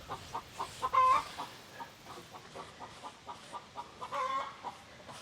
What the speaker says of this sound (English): Another happy chicken.